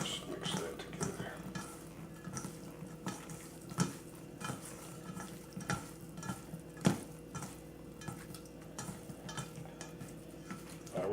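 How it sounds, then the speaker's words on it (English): Beef marinade with a good tablespoon of cornstarch is stirred together in a bowl, giving a steady wet mixing sound with scattered soft clicks and knocks and no talking. "a good tablespoon of cornstarch. And let's mix that together."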